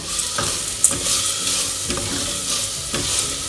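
Pumpkin, carrot and celery sautéing in a pan for pumpkin soup, a steady broadband sizzle with periodic scraping stirs roughly every second and a sharp clink near the start, close and alone.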